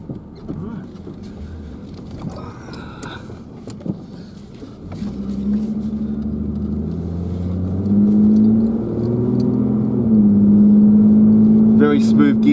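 A Holden VX Commodore with a four-speed automatic drives along, its engine humming low and steady, then its pitch rising and swelling as the car pulls away, with some talk over the cabin sound.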